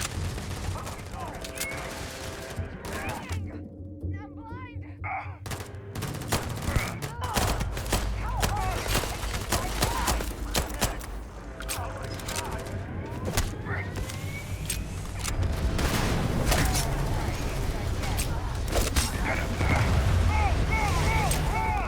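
Gunfire in the video game Starfield: sustained rapid shots and bursts with mechanical clanks and creaks, loud and continuous, with a brief quieter gap early on and someone talking at times.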